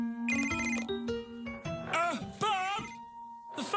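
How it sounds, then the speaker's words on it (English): Telephone ringing in the Bob the Builder children's cartoon, rising electronic ringing tones broken up and overlaid by animated character voices speaking over it. "The phone's ringing!"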